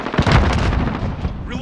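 Heavy gunfire and booming shots in a Modern Warfare Domination match form one loud, dense burst that trails off quickly.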